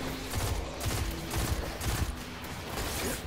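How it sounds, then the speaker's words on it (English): Rapid automatic gunfire from a Destiny 2 firefight, a dense, loud fusillade of overlapping shots pounding steadily for a few seconds with no pauses. "Dang, I've been shooting at you for a while."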